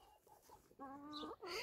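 Hens cluck softly and briefly at first, then a louder drawn-out rooster call rises and breaks, followed by another bright squawking cry, all close by on a backyard poultry run.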